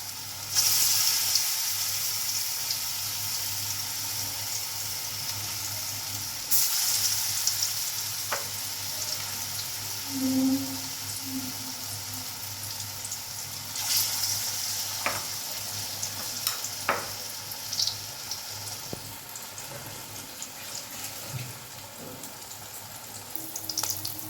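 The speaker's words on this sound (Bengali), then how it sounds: "এটা মিডিয়াম আঁচে ভাজতে হবে, না হলে ওপরটা পুড়ে যাবে, ভেতরে হবে না ভালো করে।" Balls of raw green banana kofta fry in hot oil over medium heat with a steady close sizzle and crackle, punctuated by a few faint clinks of stirring, with no voices.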